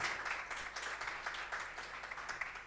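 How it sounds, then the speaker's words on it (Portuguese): At a book launch event, a modest audience gives steady, soft applause, a continuous patter of clapping heard from some distance, fairly faint throughout. "Me quero pedir forte aplauso"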